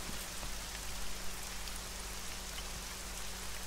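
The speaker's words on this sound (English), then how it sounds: "due to this fog and rain" Steady rain with fog in the military video game Arma 3 makes a soft, even hiss of falling drops that never lets up, with faint scattered patters and a low background drone, and no talking.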